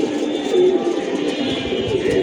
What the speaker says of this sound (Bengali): সবগুলা কবুতর বসতেছে